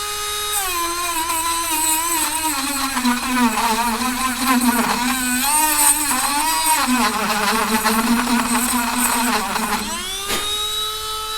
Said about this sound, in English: giving them a once over with a brass wire wheel on the Dremel